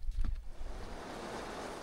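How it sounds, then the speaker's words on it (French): Strong wind at sea buffets a sailboat, a faint broadband rush with a brief louder gust at the start and surf-like hiss, off the coast of Dominica, no talking. "alors il y a beaucoup de vent"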